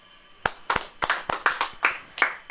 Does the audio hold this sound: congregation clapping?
yes